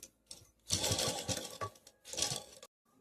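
A sewing machine runs in two short bursts of rapid needle clatter while stitching a mirror-work blouse, with a pause between and a clean stop at the end.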